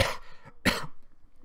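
Two harsh coughs, close up, the first a short rough burst and the second after a brief pause, with quiet room noise in between.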